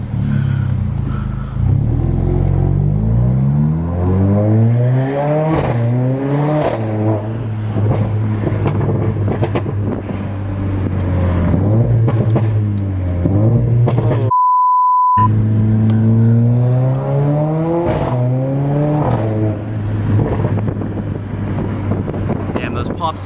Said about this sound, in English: you can really hear pops throughout the whole RPM range